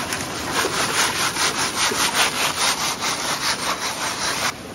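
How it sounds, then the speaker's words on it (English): Gravel shaken through a gold panning sieve over a bucket by an Alaskan river, a steady rhythmic rasping and rattling in quick even strokes, close and loud, stopping abruptly near the end. "I'm gonna shake it all around and make all that little stuff fall through."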